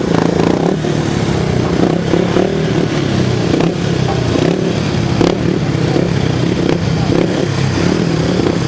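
Several 350cc grasstrack racing motorcycles roll up to the start line at a grasstrack meeting. Their engines make a loud, continuous, rumbling drone with a little revving, and a commentator's voice is faintly mixed in.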